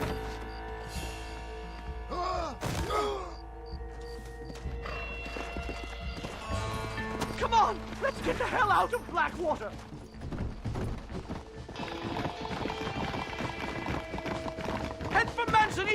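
Horses in the video game Red Dead Redemption, with rhythmic hoof clip-clops and a whinny near the start as they move off at speed through the Blackwater streets, under spoken dialogue and game sounds.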